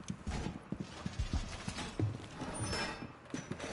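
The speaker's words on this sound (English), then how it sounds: "Sounds like footsteps were close to this door here." Footsteps close to a door in Rainbow Six Siege: a series of irregular, moderately loud thuds of steps on a hard floor, nearby, with no talk over them.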